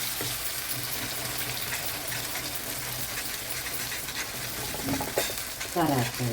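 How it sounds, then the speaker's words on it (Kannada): Ingredients for Andhra-style ginger chutney sauté in oil with a continuous close sizzle and scraping stirs, rising into louder splashy crackles near the end. "ಅದನ್ನೀಗ ಬಾಡಿಸ್ತಾ ಇದ್ದಾರೆ ಎಣ್ಣೆಯಲ್ಲಿ"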